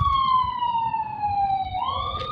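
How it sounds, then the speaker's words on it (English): An emergency vehicle siren, police or ambulance, wails loudly and continuously in a long descending sweep that rises again near the end, with steady street noise underneath. "another siren or police is running again. This one is ambulance."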